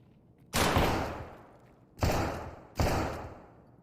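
Three heavy gunshot bursts from Escape from Tarkov, loud and close, each a sharp onset with a booming decay, roughly evenly spaced with a longer gap before the first.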